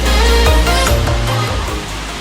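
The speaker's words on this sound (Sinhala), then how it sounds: "සූඩු දිය පාරක් තමයි දැන් නම් එන්නේ." A small stream of water at Bambarakanda waterfall in Sri Lanka pours in a steady, loud, close rush of broadband hiss that keeps going throughout.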